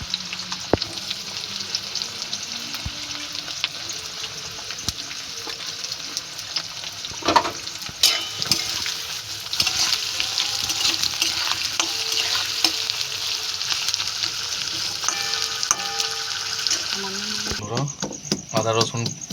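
Onion fries in spiced oil with a loud, continuous sizzle, stirred now and then with scraping and clinking of a utensil in the pan. The cooking is close, and faint background sounds run beneath it.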